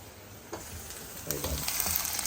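Onions and green chillies fry in a pan of hot tempering for pappu charu, a steady close sizzle that swells slightly, broken by a few scraping stir clicks.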